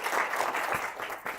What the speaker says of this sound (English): A lot of applause for Harold.